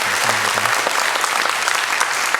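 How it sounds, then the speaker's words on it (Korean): A church congregation applauds in welcome during a Sunday morning service, steady dense clapping filling the room from start to finish, with a faint low hum beneath. "우리 환영의 박수를 우리 올려드리도록 하겠습니다."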